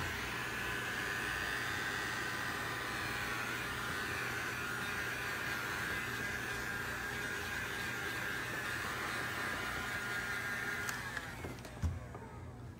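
A dryer blows steadily over a freshly sprayed coat of Polycryl paint, a continuous even whoosh for most of the stretch that tapers off near the end with a small knock.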